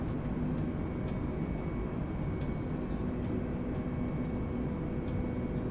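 Airbus A32NX airliner engines in Microsoft Flight Simulator roar as a dense, steady broadband rumble that stays loud and unbroken, with a few faint clicks on top.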